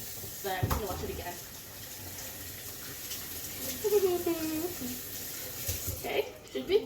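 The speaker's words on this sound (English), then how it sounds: "wash your hands" Water running from a tap while hands are washed, a steady stream with splashes, and a voice talking briefly partway through.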